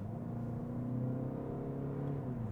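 Peugeot 508 HDi diesel engine pulling under acceleration on the road, a steady droning hum with rising harmonics, moderate and continuous throughout with no talk.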